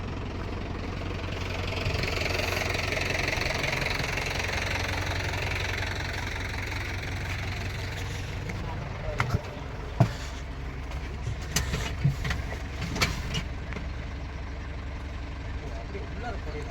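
A vehicle engine idles steadily at a soil-shifting site where a JCB 3DX and tractors are working, a constant low rumble with a few knocks and clunks toward the end, while people talk.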